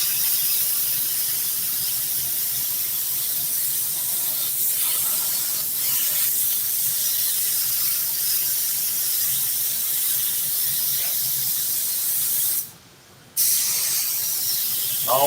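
A steady, continuous hiss of spray adhesive glue applied to a truck seat, running almost unbroken, with one brief pause near the end before it resumes.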